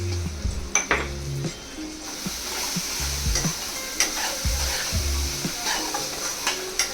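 Masala sizzles in a hot pan for prawns masala while a spoon stirs and scrapes against the metal, giving irregular clinks and knocks over a constant frying hiss.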